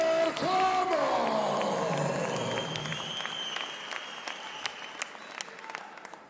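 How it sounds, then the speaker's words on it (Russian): An audience at a fight event breaks into applause after a brief amplified announcer's voice. The dense clapping gradually thins into scattered, separate claps. "Аплодисменты."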